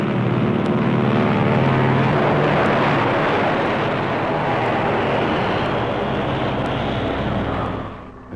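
C-47 transport aircraft towing pairs of CG-4A gliders in flight, a steady, loud, continuous propeller-engine drone that holds throughout and eases off slightly at the very end.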